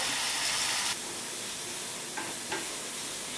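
Spice masala for a fish curry being fried and stirred, heard as a loud, bright hiss of sizzling oil that suddenly drops to a quieter crackle, with a couple of faint stirring touches.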